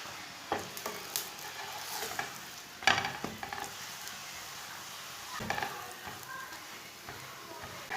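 A methi paratha frying in oil on a pan gives a soft steady sizzle, with occasional scrapes and clinks of a spatula as it is flipped and pressed, and no voices heard.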